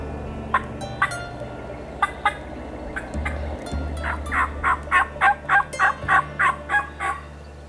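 A wild turkey gobbler sounds off during spring season in Ohio woods, a few scattered calls at first, then a rhythmic string of about nine gobbling pulses, fairly close and clear over a low rumble, no voices.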